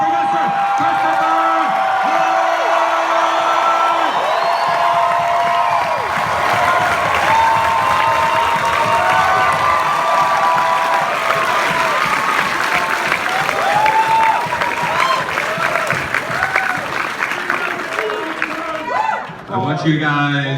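Loud, sustained applause and cheering from a large cinema audience at a Back to the Future Day Q&A in Lincoln Square, welcoming a guest, continuing steadily for about twenty seconds before it begins to fade.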